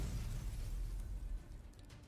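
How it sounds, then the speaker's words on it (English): A loud explosion in a Girls' Frontline 2 cutscene blasts robots apart, a heavy low rumbling boom that holds then fades away over about two seconds. "From the loud explosion, the robots attempting to surround her are blown to bits"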